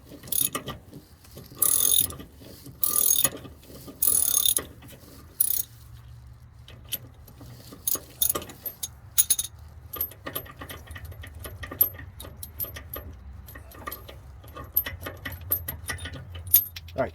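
A ratchet works loose a rear stabilizer bar link on a car, with bursts of quick metallic clicking followed by scattered clicks and clinks of tools and parts, close up and without talk.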